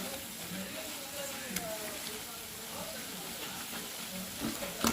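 Bitter gourd and onion pakodi fry in hot oil, a steady low sizzle and hiss running throughout with faint bubbling pops, under a soft continuous background.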